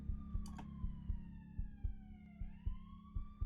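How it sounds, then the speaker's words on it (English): Police sirens wail faintly in the distance, their tones sliding downward over a steady, rhythmic low thumping like a heartbeat. "The shrill sound of the distant police sirens finally cut through the fog inside my head."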